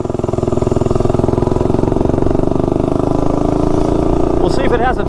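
A Tillotson 212 small engine roars loudly and continuously as it runs toward top speed, with a steady buzzing drone throughout and a voice speaking briefly near the end.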